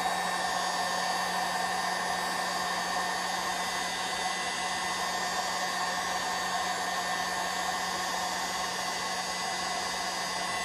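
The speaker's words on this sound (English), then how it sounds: "you probably had to grab a heat gun" Steady, loud hot-air roar from a heat gun warming a part during a hydraulic cylinder rebuild, an unbroken whooshing blast lasting the whole stretch with a faint constant hum beneath.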